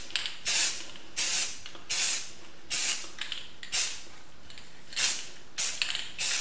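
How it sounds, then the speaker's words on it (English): Spray paint can spraying paint onto a camo net in repeated short hissing bursts, about nine of them at an irregular pace, each cut off cleanly with quiet gaps between. "Keep moving the spray can."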